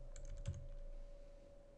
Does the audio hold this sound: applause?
no